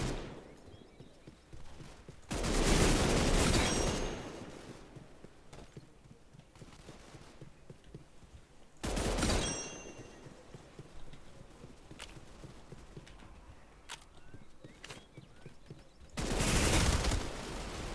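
Video game weapons fire in three loud, dense bursts of rapid shots spaced several seconds apart, with quieter clicking and thumping game sounds in between.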